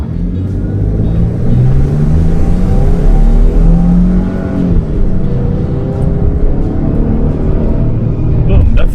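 A 2020 Ford Transit Summit Adventure van with 310 horsepower accelerates hard, its loud, steady engine roar rising in pitch through the gears over a continuous road and wind rumble.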